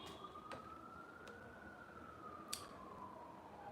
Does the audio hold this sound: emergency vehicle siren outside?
yes